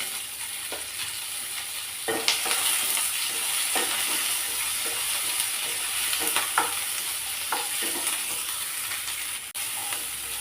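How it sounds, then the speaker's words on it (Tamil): Onion and green chillies sizzle and fry in hot oil for an egg kurma, with steady hissing and repeated scraping stirs of a spoon against the pan, no voices. "இப்போ பாருங்கள், வெங்காயம் ஒரு பாதி வதங்கிடுச்சு"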